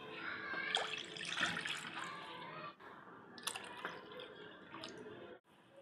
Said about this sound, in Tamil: தக்காளி வெங்காயம் நல்லா வதங்கினதுக்கப்புறம் 3 கிளாஸ் தண்ணியை இதோட நம்ம சேர்த்துக்கிறலாம்.